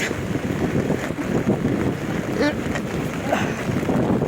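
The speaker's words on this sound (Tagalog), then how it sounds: "Mahangin." A cold, blustery morning wind at Causeway Bay roars and buffets the microphone in a continuous rough rumble, with faint traffic or water-like wash underneath.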